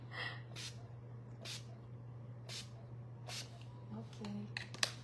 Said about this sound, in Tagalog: Ito yung spray.